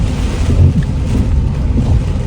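Strong typhoon wind in Mindoro, Philippines, roaring steadily and loud with a low rumbling buffet against the microphone, like surf, no voices.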